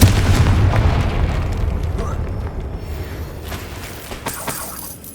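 A Confringo blast spell from Hogwarts Legacy erupts as a loud, rumbling boom at the start, then fades into a long rolling decay, with further soft crackles and bursts later and no voices.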